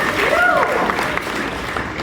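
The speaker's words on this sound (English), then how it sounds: "Yes, you can clap." Brief burst of audience clapping at a product demo keynote, a close wash of applause lasting about two seconds with a faint cheer or whistle in it.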